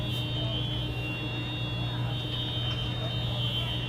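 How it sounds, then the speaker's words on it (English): Many car alarms blare at once across a parking lot after storm damage in New Iberia, blending into a constant high electronic whine and buzz, with someone talking over the noise. "almost half the parking lot's warning systems on their cars just blaring"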